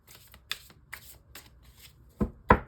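Light Seers tarot cards shuffled by hand, a few soft riffling swishes followed by two sharper snapping bursts near the end, close and clear with no talking.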